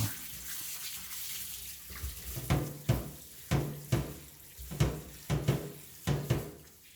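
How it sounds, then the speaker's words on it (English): Parts from a TIG welder being scrubbed with dish soap in a bathtub: repeated wet scrubbing strokes and sloshing water in an uneven rhythm, close and fairly loud. "I'm giving these guys a dish soapy scrubbing in my alchemy bathtub."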